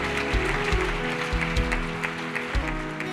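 Church congregation cheering and applauding for Jesus during a French-language sermon, a dense, steady wash of clapping and voices with organ-like tones sustained underneath.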